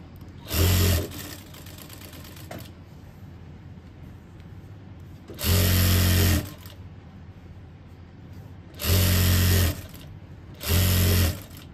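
A sewing machine stitches a shirt collar in four short loud bursts of rapid whirring, each a second or so long, separated by quiet pauses with faint handling sounds.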